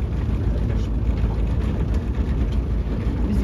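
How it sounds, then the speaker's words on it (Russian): A Tohatsu outboard boat motor runs with a loud, steady, close drone on a fishing outing, its engine noise constant and unbroken throughout. "Такой красивый мотор. Тахацу."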